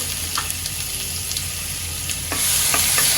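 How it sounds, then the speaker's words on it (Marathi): Spice paste of ground masala frying in hot oil on the stove, a loud close sizzle with stirring scrapes, the hiss swelling brighter toward the end. "हा सर्वांना तेलामध्ये मी चांगलं फ्राय होऊ देते"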